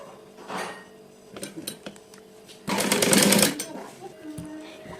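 A sewing machine runs a seam on an umbrella frock in short bursts, with one louder sustained run in the middle, close by, amid clinks and handling noise and some voice.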